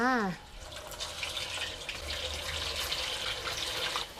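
Catfish pieces drop into hot oil in a pan and set off a close, steady crackling sizzle right after a short spoken sound.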